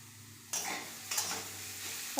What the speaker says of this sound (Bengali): ভালো করে এবার নেড়ে নেব।